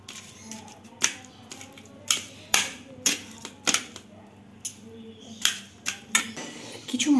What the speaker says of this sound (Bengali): গরম কলাগুলোকে একটা খুন্তি দিয়ে ভালো করে ম্যাশ করে নিচ্ছি।